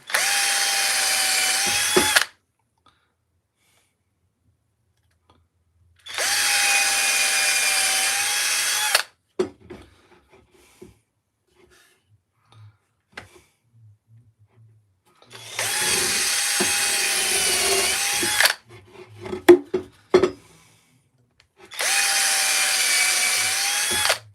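Power drill countersinking screw holes in a wooden garden stool, running in four separate steady bursts of a few seconds each with quiet gaps, a few knocks and handling sounds in between.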